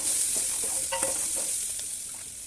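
Onions with a little salt for sambar fry in a pan with a steady bright sizzle, light stirring scrapes audible beneath it, close and brief with no talk.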